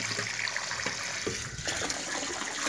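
Water splashes and streams steadily into a bird tray as it fills. The running flow sounds close and constant, with a brief dip midway.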